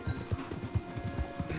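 Rhythmic hoofbeats of a horse galloping hard in Red Dead Redemption 2, with steady clip-clop thuds repeating close and loud, nothing else over them.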